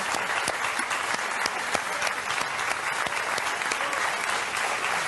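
A television studio audience at the French show Vivement Dimanche applauds steadily and fairly close, with sharper individual claps standing out from the dense sustained clapping.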